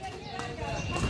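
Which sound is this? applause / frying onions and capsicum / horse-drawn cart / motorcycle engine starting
horse-drawn cart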